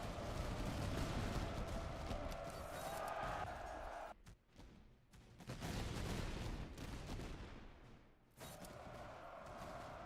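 Rifle volleys crack out on command in a Napoleonic-style battle game, dense overlapping gunfire bursts with crowd noise, broken by short pauses before another loud fusillade.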